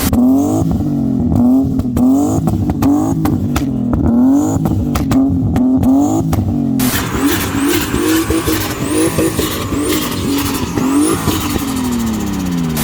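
A loud boosted BMW 328 engine at a car show revs hard over and over, climbing and dropping in pitch, with turbo-like whines and a raspy exhaust, up close.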